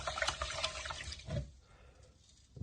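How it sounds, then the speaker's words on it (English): Rice being rinsed under a running kitchen tap, a steady close splash of water into a bowl that swells briefly and then thins to a softer trickle, with no talking. "Always remember to wash your rice first."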